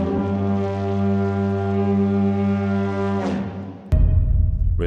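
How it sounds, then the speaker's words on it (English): An Icelandic lur horn sounds one long, deep, droning blast with rich harmonics that holds steady for over three seconds before cutting off, followed by a brief rumbling low noise. "I have this really nice horn, lurhorn"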